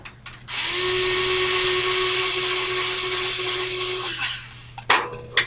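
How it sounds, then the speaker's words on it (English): A power tool cuts off an excess bolt with a loud, steady, high whine lasting several seconds, then winds down, followed by a couple of brief clanks. "then I'm going to cut the extra bolt off so that it doesn't get in the way of things and stuff"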